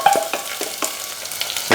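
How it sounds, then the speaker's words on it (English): Onions and chilli frying in hot oil for a vindaloo, with a soft steady sizzle and a few light stirring scrapes, close and alone without talk. "We're frying off these onions."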